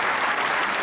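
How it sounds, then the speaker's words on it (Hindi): A studio audience on a Pakistani comedy talk show bursts into dense, steady applause for a guest, a famous cricket bowler. The sound is continuous, close and fairly loud throughout, with no talking over it. "तालियां होनी चाहिए मोहम्मद आमिर के लिए।"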